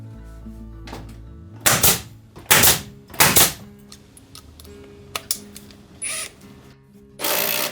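Power tool tightening bolts on a timber ceiling beam, including Hagoita bolts, comes in several loud bursts of a second or so each, with quieter clicks and handling noises between them, close by.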